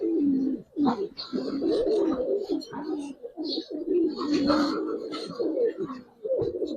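Giribaz pigeons in a loft coo continuously in soft, throaty rolling phrases, close and steady with brief chirps above.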